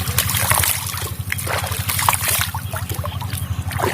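River water trickles and splashes close by as someone washes in a river, with a steady low rhythmic hum running underneath.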